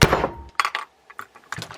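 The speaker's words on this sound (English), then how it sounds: "I'm going to grab a hammer, and a sharp blow" A hammer strikes a wood block set against an old fishing reel over 50 years old, giving a heavy close thunk followed by several sharper knocks and clinks spaced across the moment.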